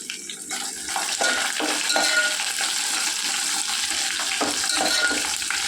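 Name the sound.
tempering with dried red chillies frying in oil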